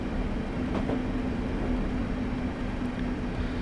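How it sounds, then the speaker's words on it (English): Electric passenger train in Train Simulator 2015 coasting with power off on the Sheerness to Sittingbourne route, a steady low rumble of wheels on rails with a faint persistent hum, continuous and even throughout. "I've shut off power to let the train coast."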